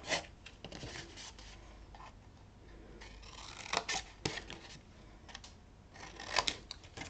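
Quiet, irregular snipping and crisp rustling of scissors cutting paper for a card, with a few sharper cuts standing out against a faint background.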